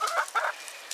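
Chickens give a few short, close clucks in quick succession, alone with no voices.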